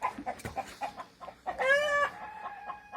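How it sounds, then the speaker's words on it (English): Chickens cluck in quick, close bursts, with one bird breaking into a longer, rising squawk midway before the soft clucking resumes. "And chickens are excited."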